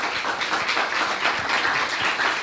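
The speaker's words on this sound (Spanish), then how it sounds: "Un aplauso, por favor, para Ismael Muchas Lafría." Applause from an audience at a university forum, continuous dense clapping with no voices over it.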